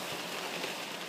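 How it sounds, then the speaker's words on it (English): Steady hiss of heavy rain falling on a car windscreen, a dense, even wash heard from inside the vehicle with no breaks or voices. "that is the rain coming down on the windscreen."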